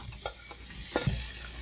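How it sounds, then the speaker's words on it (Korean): Soft crackling sizzle of sliced garlic and onion frying in a pan over low heat, with a few light scraping stirs and clinks near the start and middle. "지글지글 하는 소리가 이제 들리죠?"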